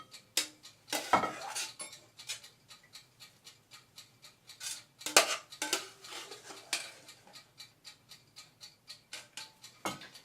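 Leeks spread into an oven-proof dish with a utensil, a steady run of light clinks, scrapes and taps, faint and close, with a few sharper knocks and no talking.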